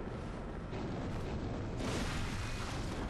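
Gunfire and explosions in the video game Bloodborne, heard as a dense, continuous booming roar with no clear separate shots, swelling louder partway through.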